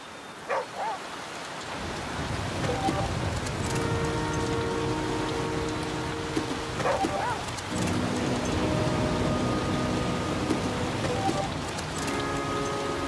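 Steady rain falls and patters on surfaces in a video game, a dense continuous hiss lasting throughout with faint occasional sounds beneath it.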